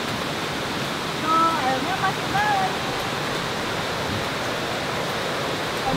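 The Candi Kuning waterfall pours in the rain as a steady, full rush of falling water. A few faint chirps are briefly heard over the constant roar.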